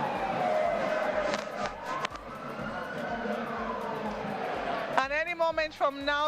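Presidential outrider sirens wailing at an inauguration ceremony in a square, a faint rising and falling tone in the background, with sharper yelping siren bursts near the end and someone talking over it.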